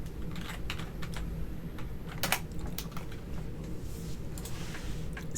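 Rapid typing on a computer keyboard, with close, crisp clicks in irregular bursts and a few sharper key strikes, over a low steady background hum.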